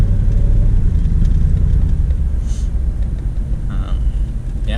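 A 1993 Corvette on its first test drive after an oil leak repair, its engine rumbling loud and steady from inside the car with slight shaking, fading a little toward the end.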